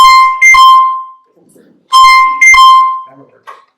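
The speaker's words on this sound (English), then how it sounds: "Timer's up." A timer alarm sounds loudly and close in a school board work session room, in two pairs of sustained electronic tones separated by a short gap, with brief voices between the bursts.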